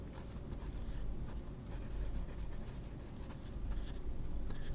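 A PSP Lotus Saratoga fountain pen fitted with a Sheaffer Imperial nib writes on paper, a continuous close scratchy rustle with faint stroke-by-stroke variation over a low background rumble.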